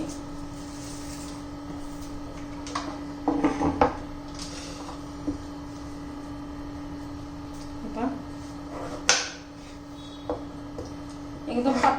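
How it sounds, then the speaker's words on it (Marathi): A knife knocks against a board in a few scattered clusters while an onion is cut for an egg kebab recipe. The taps are fairly close and moderately loud, and someone talks in between. "आता सर्व मी चिरून घेते"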